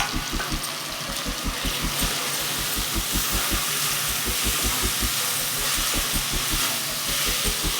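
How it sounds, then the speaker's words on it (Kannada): Chopped tomatoes fry in a pan for an eggplant palya, a steady broad sizzling hiss with a soft rhythmic thumping underneath, continuous and fairly close. "ಟೊಮೊಟೊ ಮೆತ್ತಗಾಗೋ ತನಕ ಫ್ರೈ ಮಾಡ್ಕೋಬೇಕು."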